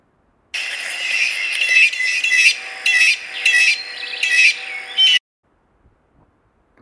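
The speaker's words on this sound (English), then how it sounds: "Blue jay." Blue jay giving a series of about six harsh, repeated calls in quick rhythm, loud and close, standing alone before falling silent.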